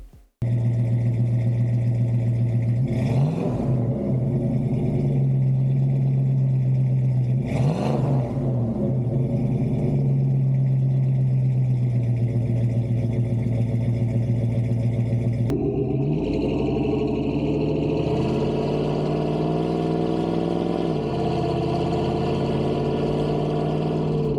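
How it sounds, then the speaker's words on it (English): A V8 Jeep with a straight pipe and Flowmaster Super 40 muffler rumbles steadily and loudly up close, with a couple of revs early on and a shift in engine tone partway through. "I then had a local shop weld on a nice straight pipe and a Flowmaster Super 40 muffler."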